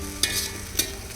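Chicken biryani masala is stirred in a kadai over a wood-fired stove: two quick scraping strokes of a spoon against the pan, close and fairly soft, over a faint background hiss.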